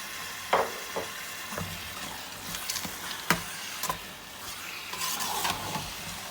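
Chopped almonds and pistachios go into a carrot and ghee mixture roasting in a pan, giving a soft, steady sizzle with a few sharp stirring clacks and scrapes close by. No one speaks.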